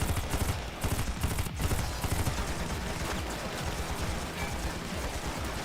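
Rifle gunfire in the video game AI: The Somnium Files, a dense rattle of rapid shots in close bursts forming a sustained fusillade that carries on for several seconds at moderate loudness.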